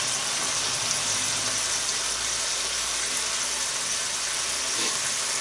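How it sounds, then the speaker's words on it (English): Steady broadband sizzling and crackling of bacon frying in its own fat in a pan, continuous and close, with no talking. "There we are, it's in its own fat. It's sizzling away."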